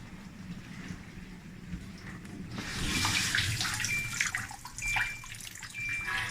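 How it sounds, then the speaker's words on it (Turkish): Water rushes into a Samsung dishwasher with a 4C fault code as it fills, a steady hiss and splash with faint intermittent tones, no speech. "Şu anda suyunu alıyor makine."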